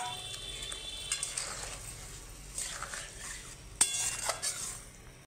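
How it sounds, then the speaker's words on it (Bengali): Spice paste for potol chingri (pointed gourd with prawns) stirred in a pan, soft scraping and faint sizzling with a few light clinks of the spoon against metal, close and quiet. "যে আবার মশলাটা একটু নেড়ে দেবো।"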